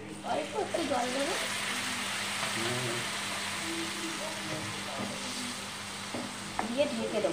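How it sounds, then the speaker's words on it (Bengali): A little water goes into a prawn stir-fry frying in a pan, producing a steady sizzle and hiss under intermittent speech, with a few stirring knocks near the end. "আমি সামান্য একটু জল দিয়ে, অল্প একটু জল দেবো,"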